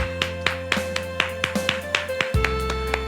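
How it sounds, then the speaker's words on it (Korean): A congregation at a Friday prayer meeting claps in thanks, with a brisk, evenly spaced beat of about four claps per second over sustained organ-like music. "우리 주님께 감사의 박수 올려드립시다"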